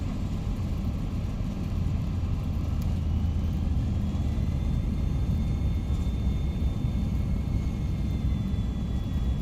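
Thrust reversers deploying on an Air Canada A320 during landing roll in a flight simulator, a steady loud broadband engine roar with a faint rising whine, continuous without talk.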